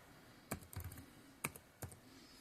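Keys on a computer keyboard are tapped during a school website registration: a few quiet, close clicks in short bursts with pauses between them and no talk.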